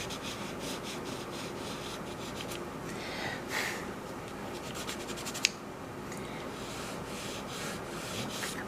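Pastel strokes scratch across paper in quick directional lines, a soft repeated rubbing and scraping close by, with bursts of rapid strokes and a brief tap partway through.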